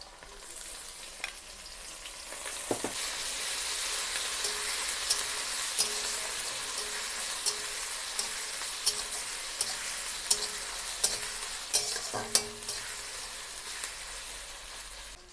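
Ginger-garlic paste sizzles in a pan with onions already fried red, cooked for a lote fish curry; a steady close, bright hiss runs throughout with scattered clicks and scrapes of stirring, and no voices.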